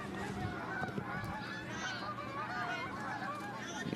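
A flock of geese honks continuously as it flies in over an outdoor girls' soccer game, many overlapping calls filling the air, loud and close throughout.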